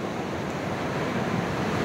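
Steady roar of ocean surf washing in continuously on a La Union beach, loud and broadband, with some wind rushing over the microphone.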